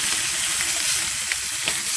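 Beef short ribs seasoned with black pepper sizzle loudly and steadily in a grill pan over high heat, a close, crackling fry with no talk.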